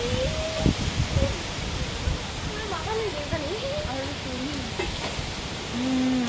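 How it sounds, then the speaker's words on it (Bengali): Strong gusty wind sweeps across open ground in a Sundarban village as a storm gathers, a steady broadband roar with rustling that swells near the end, while faint voices speak intermittently. "আর এসে ও কি দারুণ হাওয়া হচ্ছে গো।"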